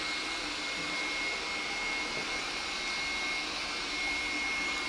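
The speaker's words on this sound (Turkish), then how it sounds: "robot süpürgenin her halükarda alıştığımız elektrikli süpürgelerin yanında çok daha sessiz çalıştığını söyleyebiliriz" A 360 S7 Pro robot vacuum cleaner running, a steady, fairly quiet motor whir with a faint high whine that holds unchanged throughout.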